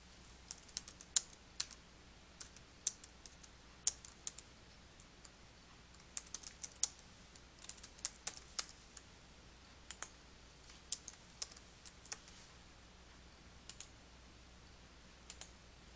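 Keys clatter on a computer keyboard as text is typed, a steady run of light, close clicks with short pauses, and no voices.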